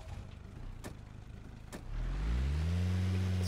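A car in the video game Rust, heard first as a low idle with a couple of sharp clicks, then revving up into a loud, steady engine drone that climbs in pitch as it pulls away.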